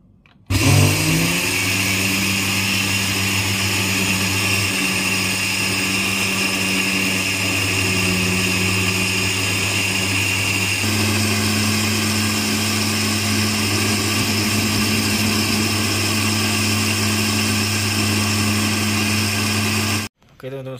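A kitchen blender whirs steadily for about twenty seconds, mixing bird feed for a magpie robin. The motor is loud and close and holds a constant drone, shifting slightly in pitch partway through before it cuts off abruptly.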